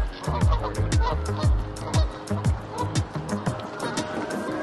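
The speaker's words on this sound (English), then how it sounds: "There's so many geese over here." Many geese honk repeatedly nearby in a noisy, overlapping chorus at a park in Seattle's Eastlake area, with steady background hum.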